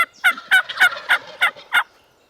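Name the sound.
wild turkeys gobbling, strutting tom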